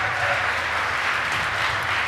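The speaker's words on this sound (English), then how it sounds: "A second round of applause for Leary." Audience applause at an Age of Empires 2 offline esports event for a player taking the stage, a steady, dense wash of clapping filling the whole stretch.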